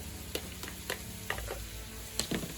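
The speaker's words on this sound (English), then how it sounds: "now we're going to add in about a tablespoon of crushed garlic" Crushed garlic sizzling in a pan, a soft steady fry under repeated scraping and clinking of a utensil stirring, several sharp taps spaced across the moment, no talking.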